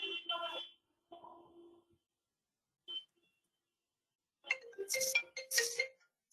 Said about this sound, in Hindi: दामिनी का फोन।